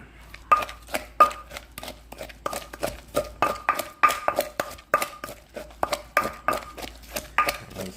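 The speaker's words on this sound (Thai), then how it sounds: "เติมเสร็จแล้วเราก็จะคนให้มันเข้ากันนะครับ" Thai chili paste made with crab paste from Nan is stirred in a bowl, giving a steady run of bright, close spoon clinks and scrapes that repeat rhythmically with no voices.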